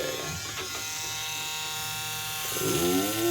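An electric hair clipper buzzes steadily at close range while cutting hair at home, its whine rising and shifting in pitch near the end as it presses into the hair.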